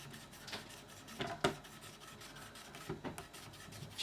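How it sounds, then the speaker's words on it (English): A cloth rubs Dunlop fret cleaner along guitar frets, giving soft, close scratchy strokes that come in brief bursts with quiet gaps between them. "then just run down each of your frets, coating as much of the fret as you can with the cleaner."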